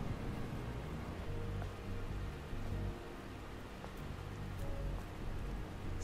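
Rain falls steadily in the video game Stellar Blade, a soft, even wash of droplets with faint scattered patters, quiet and continuous with no voices.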